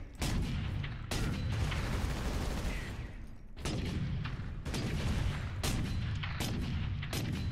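Sniper rifle shots in Warhammer 40K: Space Marine, sounding as a series of loud sharp cracks roughly every second or two over a dense roaring battle din.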